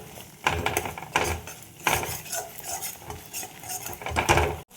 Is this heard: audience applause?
no